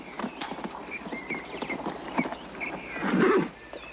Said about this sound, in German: Constance, komm jetzt, reiten wir.